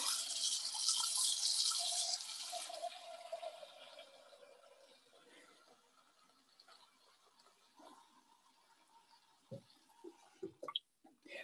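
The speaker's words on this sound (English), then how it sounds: "Gonna put some water in here." Tap water pours into a cooking pot for boiling, a bright rushing stream for a couple of seconds that fades into a low trickle, followed by a few faint knocks and clatters.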